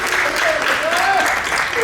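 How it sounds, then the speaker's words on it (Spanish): A seminar audience gives a loud, continuous round of applause for Daniela, while faint voices can be heard beneath the clapping. "Así que un aplauso para Daniela"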